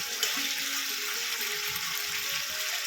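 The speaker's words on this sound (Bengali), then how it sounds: "এই বাটি 2 বাটি মতন জল আমি অ্যাড করছি" Water poured into a pan of simmering vegetarian fish curry, a steady broad rush of liquid lasting a few seconds, close and even in level, with no talking.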